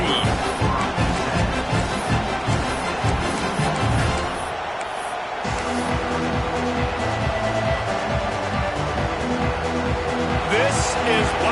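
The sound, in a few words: stadium crowd noise at a Tennessee vs Oklahoma football game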